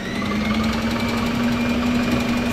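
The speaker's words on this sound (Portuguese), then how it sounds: "Vou ligar a batedeira na velocidade bem baixa e vamos misturando aqui, largando o leite condensado" A home electric mixer running at low speed while condensed milk is added for a cookie dessert pie, producing a steady, loud motor hum with a constant tone and no pauses or talk.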